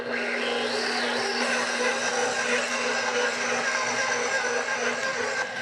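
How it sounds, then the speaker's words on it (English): Stand mixer kneading bread dough in a home kitchen, a steady loud motor whir with a constant hum and churning texture, running continuously with no talk. "now that the dough is almost finished kneading in the machine"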